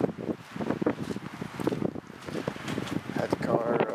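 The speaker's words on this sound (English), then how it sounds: "Sorry, it's a little windy." Gusty wind buffets the microphone beside a 2013 race red Ford Focus ST outdoors, in loud uneven rumbling bursts while a person talks over it.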